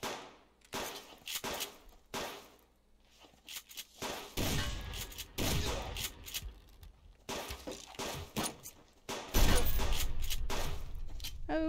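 Bursts of gunfire in the survival game Subsistence, several loud sharp shots and clusters scattered across the stretch, with a heavy sustained blast near the end, no talk over them.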